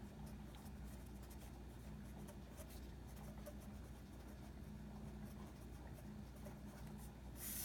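Marker or chalk writing steadily on a classroom board, a continuous soft scratching and rubbing texture over low room hum, fairly faint and without talk.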